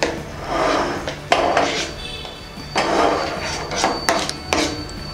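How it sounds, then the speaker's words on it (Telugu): A spoon scrapes and knocks against bowls while fruit custard is transferred into another bowl, repeated close scraping strokes broken by a few sharp clinks, with no talking. "దీన్ని వేరే బౌల్లోకి తీసుకుందాం."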